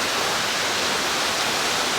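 Heavy rain pours down steadily during a thunderstorm before a riverside cruise dinner, a dense, constant broadband hiss with no distinct thunder claps.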